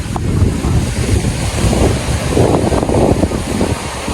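Loud ocean surf rolling in at a beach resort in Sariaya, Quezon, a continuous wash of breaking waves mixed with heavy wind buffeting the microphone.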